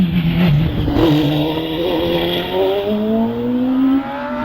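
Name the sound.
Force TA race car at Harewood hillclimb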